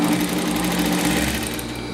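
A sewing machine stitches a seam along the edge of a Pocket-style dress about half a centimetre in, a fast, steady whirring buzz close by and running continuously, with no talking.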